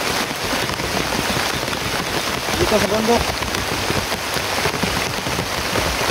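Steady rain falls on a mountainside in a dense, even hiss with no letup, close and loud, while someone says a few words under it.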